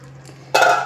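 Water is suddenly poured into a cooking pot of bottle gourd greens curry with potato and eggplant, a bright splashing rush that starts abruptly after a quiet moment and stays close and loud.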